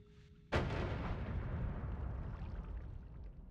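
In the game Noita, a lightning bomb detonates with one sudden heavy blast, followed by a long rumbling, crackling decay that lingers for several seconds.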